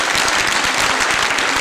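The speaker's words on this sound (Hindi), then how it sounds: "मिर्ज़ा मकसूद साहब के एक भरपूर तालियां होनी चाहिए" Full, dense audience applause at a union oath ceremony for lady health workers, loud and continuous throughout with no speech over it.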